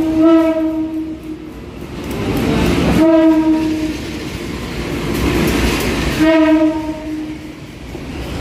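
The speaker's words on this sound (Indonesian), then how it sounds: "Lokomotif merah menarik kereta api lokal" A red locomotive pulling a local commuter train sounds its horn in three loud, sustained blasts, with rumbling, rolling wheel noise between and beneath them.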